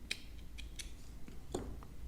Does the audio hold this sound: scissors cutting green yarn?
yes